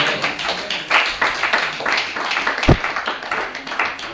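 A church congregation at a revival service claps together in a dense, steady patter of hands, rising and falling in bursts for about four seconds, with one sharp knock partway through.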